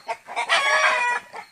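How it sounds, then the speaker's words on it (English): A backyard rooster crows once, close and loud, a rising then sustained call lasting about a second with short clucks before and after. "When the roosters make that sound,"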